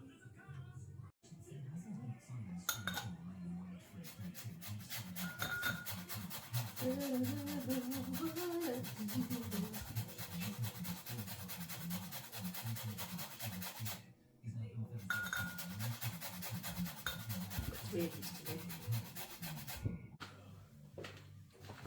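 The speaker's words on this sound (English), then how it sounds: "Zesting the limes." Limes are rubbed against a kitchen grater for a cheesecake, giving a steady, close rasping scrape that continues for about twenty seconds with a few brief pauses.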